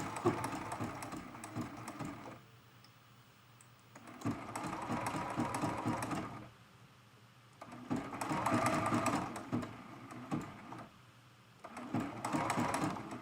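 A quilting sewing machine stitches a zigzag on a mug rug in several separate bursts of close, buzzing whir. Each run lasts a couple of seconds, with quieter gaps between them.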